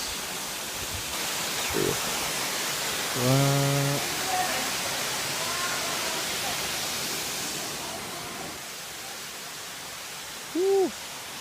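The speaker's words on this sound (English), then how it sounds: "Check it out. Budlaan Falls here in the Philippines." Budlaan Falls in the Philippines pours with a steady, broad rushing roar throughout, overlaid by a few short voices and brief hoot-like calls.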